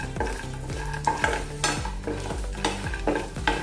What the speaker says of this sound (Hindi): अभी इसमें डालेंगे थोड़ी सी दाल चने की और थोड़ी सी मूंगफली। थोड़ा देर इसको भूनेंगे।